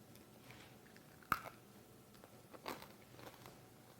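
Someone bites into crispy, crunchy no-knead bread filled with feta and roasted garlic, giving one sharp close crunch followed by quieter crunchy chewing.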